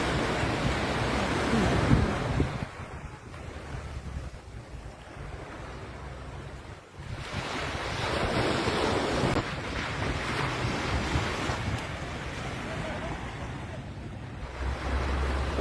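Sea waves wash continuously onto a beach while gusting wind buffets the microphone, a loud, steady roar that swells and eases without a break.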